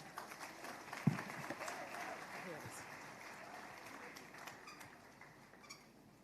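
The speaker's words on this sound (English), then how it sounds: "Please, a round of applause for her." An audience at a public speaking event in Nigeria gives a round of applause for a speaker coming up, a soft scattered clapping that fades gradually, heard under and between voices.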